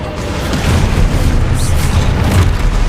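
Fiery Confringo spell blasts from the Hogwarts Legacy video game: a dense, loud run of booming explosions and rumbling bursts that continues without a break.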